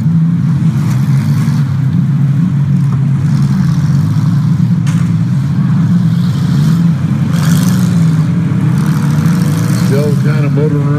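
Demolition derby cars at the Erie County Fair rumble and rev steadily in the distance, one car smoking heavily, with a continuous low engine drone under crowd noise and an announcer's voice.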